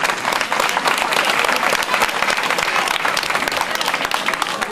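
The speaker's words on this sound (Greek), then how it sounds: "το χωριό του Μανώλη του Στεφανάκη, για τον οποίο θέλω το χειροκρότημά σας." An audience at a Greek village feast for Saint Titus in Kourouтes, Amari applauds, a dense, steady wash of many hands clapping at even loudness with no pauses.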